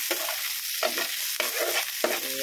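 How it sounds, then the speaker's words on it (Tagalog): Pork chop fries in sautéed garlic, a close, bright, steady sizzle with repeated scraping strokes of a spatula stirring the pan at a regular rhythm, and no voices. "yan ang ating ginisang bawang at ilagay na rin natin ang ating pork chop"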